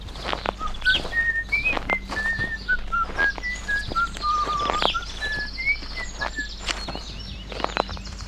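A person whistles a pleasant, gliding tune of short sustained notes, close and clear, over light footsteps and ticking sounds while walking through a forest.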